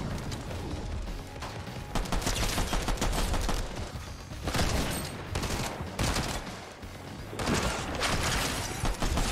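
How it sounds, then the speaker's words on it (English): Automatic turret in the Fortnite video game firing continuous bursts of rapid gunfire, loud and close, with brief lulls between sustained volleys. "I'm literally gonna let the turret take him out."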